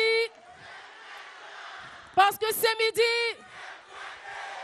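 Studio audience at a midday show in Bouaké lets out loud, harmonic shouts and cheers in bursts after a presenter's voice, with a low crowd murmur underneath throughout.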